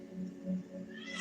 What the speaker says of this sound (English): My cat is in this cage, and he is doing a lot of meowing.